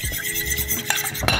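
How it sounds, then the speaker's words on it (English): Eggs and milk whisked in a bowl for Hong Kong French toast, quick clinking and scraping strokes that come up close and steady, with no talk. "And whisk her up."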